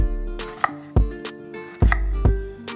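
A knife cutting thin slices of vegetables on a cutting board while cooking jambalaya chicken and shrimp pasta, with several sharp, close chops at uneven intervals and a ringing hum between them, no talking.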